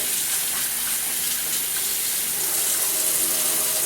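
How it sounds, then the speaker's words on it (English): Water runs steadily from a kitchen tap as food is rinsed, a loud continuous hiss and splash that keeps going without a break and with no talking. "When they're all rinsed off, you turn up the water and you rinse your hands off"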